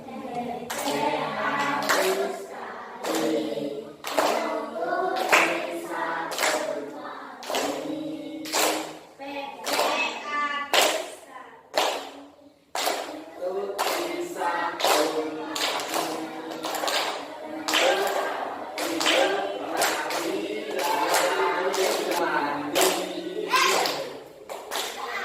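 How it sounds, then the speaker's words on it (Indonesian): A group of children clap their hands together in a classroom, sharp irregular claps coming in quick bursts, with a teacher and kids speaking between and over them. "Oke ya, tepuk tangan."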